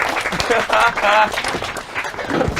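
Audience applause and cheering at a migration class show, a dense burst of clapping with voices rising over it, fairly loud and close, swelling and easing over a couple of seconds.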